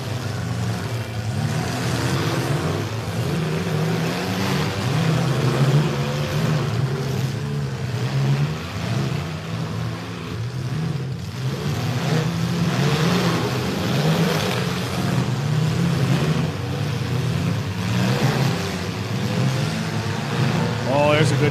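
Demolition derby cars at a green-flag start rev their engines and roar off together, a dense, continuous rumble of several motors beneath a commentator talking throughout.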